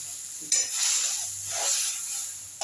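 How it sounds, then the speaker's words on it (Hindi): Turmeric, chili and coriander masala frying with onion for a boiled arbi (taro root) curry, a soft steady sizzle with stirring scrapes that swell and fade, close up with no talking. "मसाला पक रहा मेरा।"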